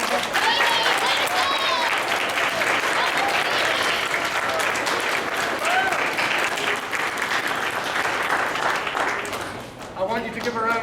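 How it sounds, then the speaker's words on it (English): A school audience at an arts event applauds loudly, sustained clapping and crowd noise filling the whole stretch before thinning out near the end, with some voices and cheers mixed in. "I want you to give a huge round of applause, please, to Mrs. Gindler and Mrs. Feeney"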